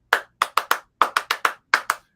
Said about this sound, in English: we'll start clapping like,